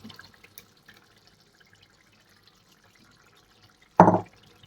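Water is poured into simmering Andhra-style chitti dumpalu curry gravy, a single brief splashing gush close by that follows a few seconds of near quiet with faint clinks.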